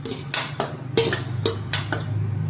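A metal spoon scrapes and clanks against an iron kadhai while spiced masala is stirred, in a quick series of about seven close, sharp knocks over a low background hum.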